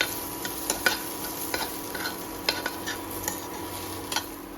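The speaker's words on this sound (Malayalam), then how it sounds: "പച്ചമുളകും പച്ചമുളകും കൂടി ഇട്ട് കൊടുത്ത് ഇതിന് നല്ലോണം വറുത്ത് കൊടുക്കാം." Green chillies fry in oil in a pan for semiya upma, a continuous sizzle punctuated by repeated sharp clinks and scrapes of a spoon stirring against the metal, with no voices.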